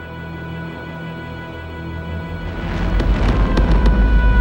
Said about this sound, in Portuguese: E as explosões ainda continuam.